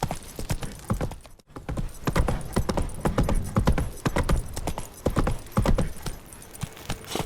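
Roach, the horse in The Witcher 3 video game, trots with steady clip-clop hoofbeats on the ground, close and clear, the rhythmic footfalls running throughout with no talking.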